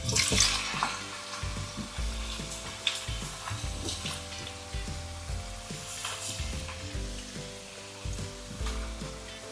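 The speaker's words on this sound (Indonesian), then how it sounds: "Nah, ini minyaknya udah panas. Terus kita masukin aja. Goreng dulu sampai mateng." Cubed potatoes frying in hot oil in a home kitchen, a steady bubbling sizzle that rises and falls with light stirring, fairly quiet, no talking.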